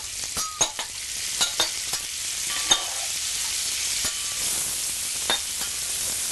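Onions frying in a pan over medium-high heat, a steady sizzle broken by sharp clicks and scrapes of stirring, close and fairly loud with no voices.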